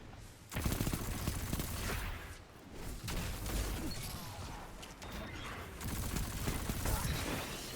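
Rapid SMG fire crackles in loud, dense bursts during a first-person shooter match, mixed with game clatter and impacts, with a brief lull midway before the firing resumes.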